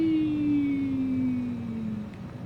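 Propeller airplane engine in Microsoft Flight Simulator, flying over the Blyde River area of South Africa, a steady drone with a slowly falling pitch, holding loud and even throughout without talk.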